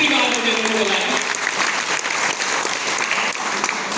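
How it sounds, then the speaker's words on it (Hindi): An audience at a motivational speaking session claps for the team, a loud, continuous round of applause from a roomful of people, with a voice briefly audible within it near the start. "पुष्पेंद्र जी के लिए, पूरी टीम के लिए जबरदस्त तालियां होनी चाहिए।"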